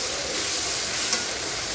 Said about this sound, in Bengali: মশলাটি আমার এখন ভাজা হয়ে গেছে